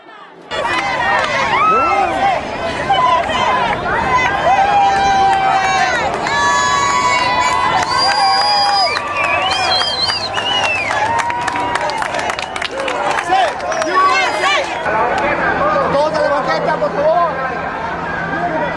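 Large crowd of immigration reform protesters at a march, a dense, loud babble of many voices with shouts and cheers, continuing throughout and thinning slightly near the end.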